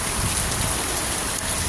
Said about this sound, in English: Oh, it's seriously raining, it's pouring.